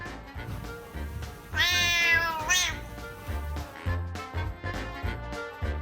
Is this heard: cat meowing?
yes